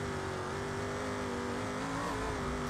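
A truck in the BeamNG driving game runs with a steady droning engine tone that wavers slightly as it rolls over bumps, close and continuous, with no voices.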